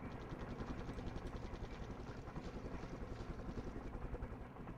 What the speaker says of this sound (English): Go helicopters, go.